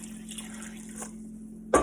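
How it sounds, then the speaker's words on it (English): Water pours over diced potatoes and squash in a cooking pot for squash soup, a steady close filling splash with a steady hum beneath, ending in a sharp louder splash or clatter. "I'm going to cover it with water."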